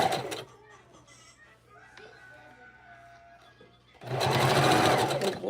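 A sewing machine stitches a wig, running in loud fast bursts at the start and end with a quiet pause between, under a faint hum and small clicks.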